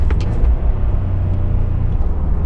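A 400-horsepower Subaru Impreza WRX STI rally car, road-going, drones with a loud, steady low engine rumble throughout, close and continuous with no voices.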